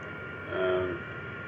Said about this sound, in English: Alright, engine's back online.